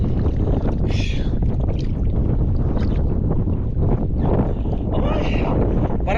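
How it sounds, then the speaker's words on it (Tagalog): Strong wind buffets a small fishing boat out on open water, a steady, loud roar with rushing gusts that swell and ease throughout, with no other sounds standing out. "mas lalong lumakas ang hangin"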